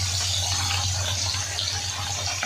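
Live fish frying in mustard oil in a home kitchen, a steady loud broadband sizzle and hiss with dense spattering crackle running throughout, no voices.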